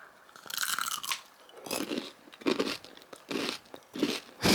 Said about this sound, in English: check out the ASMR of this crunch